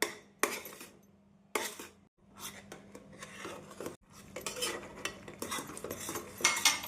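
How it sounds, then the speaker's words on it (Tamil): A spoon repeatedly scrapes and stirs thick urad dal kali with palm jaggery and sesame oil in a pan, in close, uneven bursts of clattering strokes with short pauses. "நன்றாக சுருண்டு வரும் வரை நாம் கிளற வேண்டும்."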